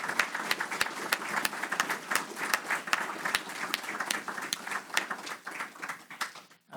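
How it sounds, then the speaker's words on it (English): Audience at an astronomy society spring meeting applauds a speaker, steady dense clapping throughout that thins out and stops near the end, no talk over it. "one more round of applause for Mark Birkinshaw"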